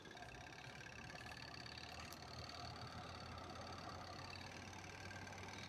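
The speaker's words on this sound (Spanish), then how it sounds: "ahí la tenemos centrifugando, ahí aceleró sin ningún problema, ya no cabecea" A repaired washing machine whose worn coupler was replaced, its drum spinning at speed in the spin cycle without shaking: a steady, dense mechanical whir and hum, continuous and unchanging throughout, with no talk.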